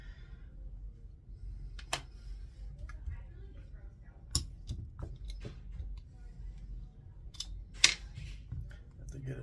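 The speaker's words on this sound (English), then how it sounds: "Long screw goes all the way through." Screw being backed out of an L.C. Smith (Hunter Arms) double barrel shotgun, a long screw running all the way through: faint scattered metallic clicks and ticks of the driver, close up, with a person talking quietly.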